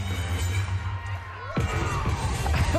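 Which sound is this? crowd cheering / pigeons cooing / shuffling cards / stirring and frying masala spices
crowd cheering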